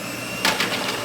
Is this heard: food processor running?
yes